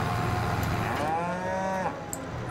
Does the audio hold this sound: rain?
no